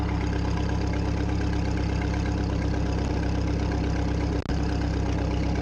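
A steady engine idles close by, a tractor with an eight-cylinder engine, holding a constant low drone throughout with one brief low thump near the end and no talk over it.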